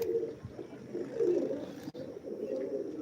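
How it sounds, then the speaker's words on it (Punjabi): Malwai pigeons coo softly and continuously at close range, low murmuring calls overlapping one another in a quiet setting during rainy weather. "ਆਪਣੇ ਦੋ ਮਲਵਈ ਕੂਤਰੇ ਨਵੇਂ ਵੀਰ ਜਿਹੜੇ ਜੁੜੇ ਆ ਉਹਨਾਂ ਦਿਖਾ ਰਹੀ ਹੈ"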